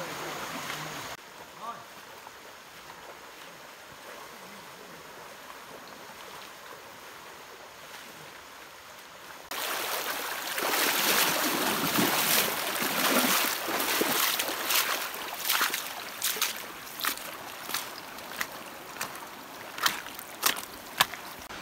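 Mountain stream water rushing over slippery rocks on the way to Aur village in the Truong Son range, Vietnam, quiet at first, then a loud, steady broadband wash of flowing water with splashy surges from wading, no voices.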